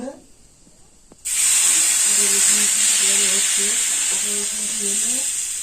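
Water poured into a pan of lightly fried vermicelli sets off a sudden loud, steady sizzle that holds for several seconds, with someone speaking over it.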